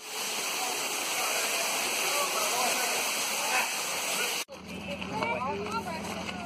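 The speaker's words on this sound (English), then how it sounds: "We're getting to the we're at the waterfall." A waterfall at Carter Caves roars as a loud, steady broadband rush, then drops to a quieter background where people talk close by.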